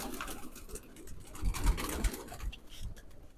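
Domestic pigeons coo softly in a low, throaty burble with light wing flutters and patters mixed in, fairly quiet and close, with no talk.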